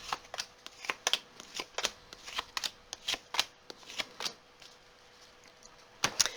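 Tarot cards being shuffled and laid down: a steady run of crisp slapping snaps and riffles, about a dozen spaced hits, close and fairly quiet, ending with a quick double snap, no talk.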